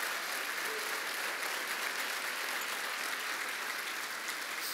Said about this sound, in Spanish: Vamos a dar un aplauso fuerte a Dios.